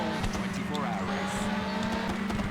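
Race cars pulling away at the start in Test Drive Le Mans on PlayStation, a dense engine roar with a steady low hum and revving sweeps, while someone commentates over the noise.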